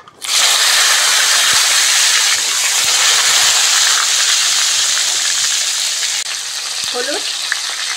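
Chopped tomato drops into hot oil with caramelized sugar in a pan of jackfruit curry and spits into a loud, steady, close sizzle that holds its level throughout.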